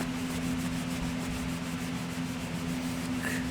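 An old Craftsman screwdriver is buffed by hand with a clean cloth, a steady, close rubbing scrape repeated in quick even strokes, with a low hum underneath and no talk.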